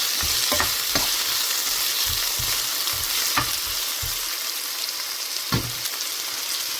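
Onions sauté in a pan for a vegetable curry, a constant close sizzle punctuated by a series of irregular scraping stirs and clinks of a spoon against the pan, louder in the first half and with no voices.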